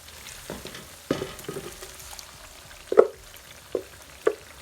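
Chicken pieces frying in a pot on gentle heat for stew, a soft continuous sizzle with several sharper pops and spatters breaking through at intervals.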